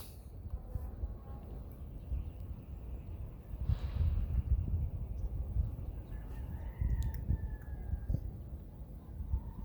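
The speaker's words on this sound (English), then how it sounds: "Birds playing." Chickens and other birds calling outdoors in a garden, with faint clucks and crowing-like calls over a low rumbling background, a brief louder burst midway, and faint talk.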